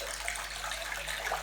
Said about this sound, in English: so you can fill up a bucket with hot water